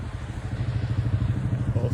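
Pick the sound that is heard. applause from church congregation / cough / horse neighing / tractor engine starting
tractor engine starting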